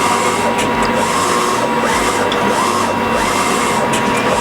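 A large-format printer runs steadily at close range, printing ATV graphics with a continuous mechanical whir and faint periodic carriage sweeps.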